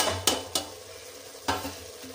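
Raw banana curry stirred in a pan: three sharp spatula clinks against the metal over a low, steady sizzle, with soft scraping in between and no voices.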